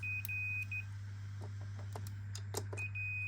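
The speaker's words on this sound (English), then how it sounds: "You see I've got a beep there through the fuse." A multimeter emits a steady high continuity beep at the start, testing through a fuse on an underfloor heating system, then again near the end, with soft clicks and handling noises between, over a low hum.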